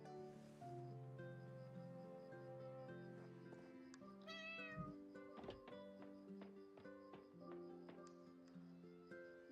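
A cat in the video game Heartopia meows several times, with soft in-game tones, taps and thunks around it, all at a quiet level.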